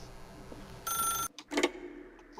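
A telephone rings in the video game The Stanley Parable, a single loud, bright electronic ring burst followed by a shorter second burst after a brief gap.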